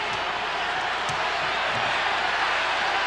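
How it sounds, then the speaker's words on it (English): Crowd noise fills the America West Arena during an NBA Bulls versus Suns game, a steady broad roar of spectators with faint thumps and bursts underneath, continuous and fairly distant throughout. "Crowd's starting to get into it here in the America West Arena."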